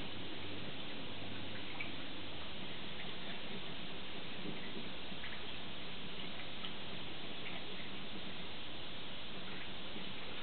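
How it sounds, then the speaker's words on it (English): Whisk tapping and scraping inside a dish while coleslaw dressing is mixed together, a faint, steady run of quick ticks that continues without pause. "So I'm just going to whisk that all together right in the dish"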